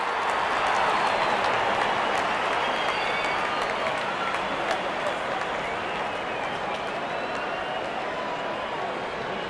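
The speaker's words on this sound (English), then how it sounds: "The crowd is enjoying every bit of this action." A stadium crowd cheers in the cricket game RC24, a steady, broad roar of massed voices sustained throughout with no distinct breaks.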